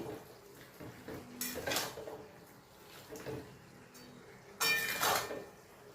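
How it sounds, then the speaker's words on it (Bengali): Pumpkin greens are stirred in a pan with a spatula, producing two loud scraping, clattering bursts over a low background murmur, the second sharper and brighter than the first. "এবার সবটা একসাথে নাড়িয়ে নিই"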